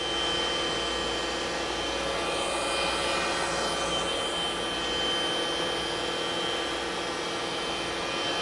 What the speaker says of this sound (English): That's the Norton, Swasey Norton 14 by 36 universal cylindrical grinder